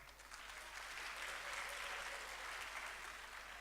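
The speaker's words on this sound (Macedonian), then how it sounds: "Ве молам еден аплауз." Steady applause from an audience at a harvest beauty pageant, a continuous wash of clapping that holds evenly for the whole stretch, fairly distant and soft.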